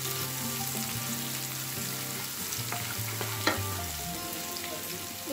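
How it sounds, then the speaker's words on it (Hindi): Green chillies and onion frying in a pan for dry suji upma give a dense, continuous sizzle close up, with a few sharp clinks of stirring and no talking. "हरी मिर्च और इसको फ्राई करेंगे"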